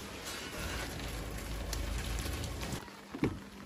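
Heavy rain pours steadily on a surface outdoors at night in the countryside, a dense continuous hiss with a faint knock near the end.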